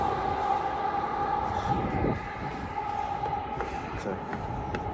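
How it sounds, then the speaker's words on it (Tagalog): A train rolls past near River Valley park in Edmonton, a steady broad rumble with a sustained tonal hum throughout, moderately loud and continuous, easing slightly partway through as it passes. "May tren."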